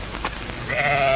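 A single sheep bleats once, a wavering nasal cry rising out of a low outdoor rumble in open country near grazing livestock, close and fairly loud, with no speech over it.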